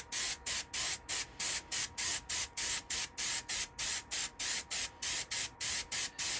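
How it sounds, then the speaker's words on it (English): An airbrush sprays sanding sealer onto a woodturned bowl in short, even hissing bursts, roughly three per second, loud and close with no talk. "my air sprayer, my airbrush, and all I'm going to do is spray it on"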